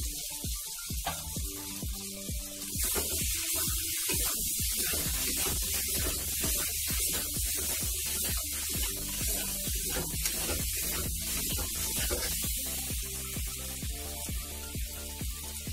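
Fried pointed gourd going into a pan of spiced potatoes, a continuous hissing sizzle with scattered crackles and spatters, steady and close, with no talking.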